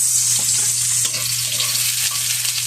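Garlic and onion sizzle loudly in hot oil, a dense continuous hiss with light stirring underneath, close and uninterrupted.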